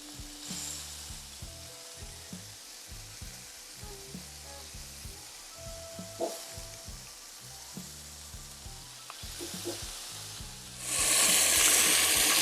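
Meatballs browning on a Blackstone griddle give a constant close sizzle with small crackles and pops, swelling into a louder, brighter hiss in the final seconds; no voices.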